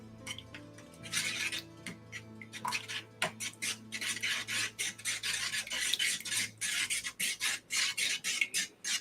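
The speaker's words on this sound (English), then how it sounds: "first we'll go ahead and kind of separate these eggs a little bit" Eggs being separated and whisked in a bowl for French toast: a fast, steady run of scraping and clinking strokes, close and fairly loud, with no talking.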